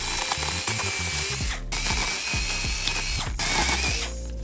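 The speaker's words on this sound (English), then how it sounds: "if you've been needing a little chainsaw to help you out around the yard, but didn't want a gas-powered model, check out the Fanttik W10 Apex" A Fanttik W10 Apex cordless mini chainsaw cuts through dead juniper in a front yard. A loud, steady mechanical whir with a rapid ratcheting chatter runs nearly throughout, dipping briefly twice between cuts.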